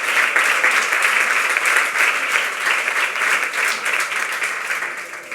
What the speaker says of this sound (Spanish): también tiene que recibir nuestro aplauso